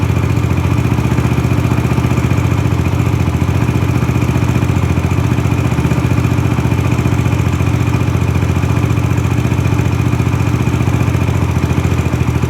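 A Raptor 125 quad engine sits at a high idle, giving a steady, loud, clattering drone that holds close and unbroken with no talk.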